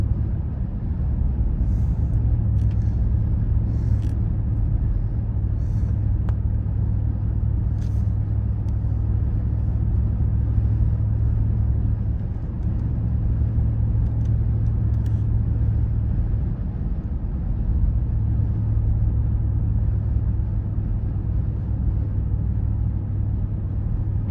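A car drives a mountain road near Mammoth through cloud and fog, giving a steady, close low engine-and-tyre rumble that holds evenly for the whole stretch, with faint rattles and no talking.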